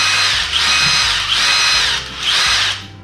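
A Kobalt 24V cordless drill runs in reverse in three close, loud bursts of high whirring motor whine, each spinning up, holding steady and winding down with brief pauses between.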